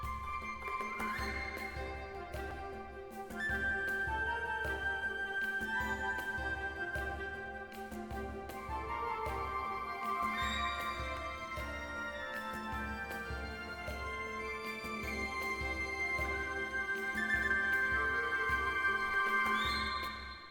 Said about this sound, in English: First section, the ethnic / woodwind / percussion section, and it sounds like this on its own.